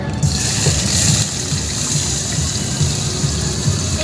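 Water pours in a steady, continuous gush that runs unbroken and fairly loud throughout, with a low rumble beneath it and no one speaking.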